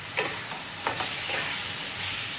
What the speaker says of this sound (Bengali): এবার এগুলোকে ভালোভাবে একটু কষে নেব মশলাটার সাথে